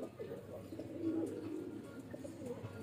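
A pigeon coos softly in a low, steady murmur, faint and close, with a bit of background noise around it.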